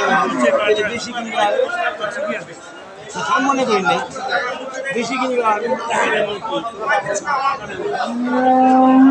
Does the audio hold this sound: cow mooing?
yes